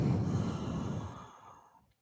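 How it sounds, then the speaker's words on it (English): One long, deep exhale sighs out and slowly fades away into silence. "Let's take a deep breath."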